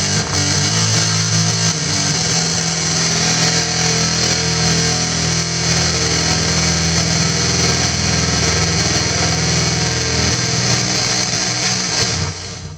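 Electric guitar played through a MUZA GP300 multi-effects pedal with phaser layered on distortion, a thick, sustained, loud tone that rings continuously for about twelve seconds with no talking.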